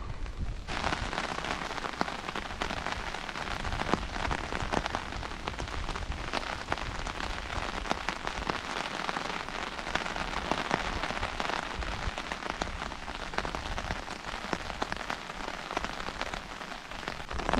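Rain patters steadily on an umbrella during a rainy fishing outing, a dense and even drumming of drops that holds constant throughout at a modest level, with no voices.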